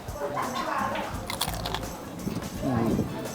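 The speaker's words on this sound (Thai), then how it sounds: "ลองดูเลยว่ากรอบแบบ กรุบหรือเปล่าแบบว่าเหมือนอ่าฟังเสียงหน่อย" A crisp crunchy bite into crispy roast pork skin followed by chewing, with background chatter and voices around it.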